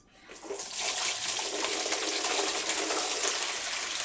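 Boiling hot water is poured steadily over washed corn husks in a kitchen while making pork tamales, a continuous close rushing splash that builds in the first half second and then holds, with no talking.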